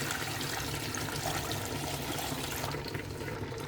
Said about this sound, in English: I'm adding this water from the tomatoes that I sieved out from the tomatoes. I'll add it to the meat and cook it.